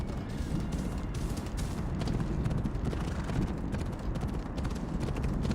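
Horse hooves clip-clop steadily in Assassin's Creed Odyssey (The Fate of Atlantis DLC), a dense, continuous galloping patter with a constant game soundscape.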